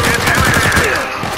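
Rapid gunfire in the action game Uncharted 4, a dense, loud burst of repeated shots with a faint voice mixed underneath.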